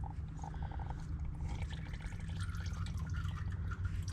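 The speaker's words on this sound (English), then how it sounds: "I can hear that draining down into the oil down below." Engine oil trickles and drains steadily from a loosened oil filter on an Audi A4 B8.5/B9 into a pan below, a continuous close liquid pour with low rumbling underneath.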